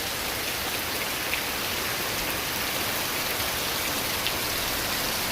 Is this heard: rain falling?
yes